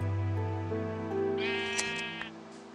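Minecraft sheep give a couple of close, clear bleats in the game, short wavering cries standing out over a quiet background hum.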